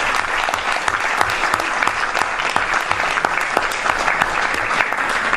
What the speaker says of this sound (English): Let's give our two presenters a big round of applause